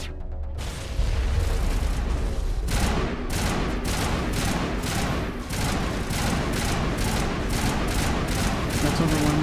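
Rapid bursts of gunfire and booms in a video game, a dense run of sharp repeated shots that keeps on steadily after a short quiet opening, loud and close.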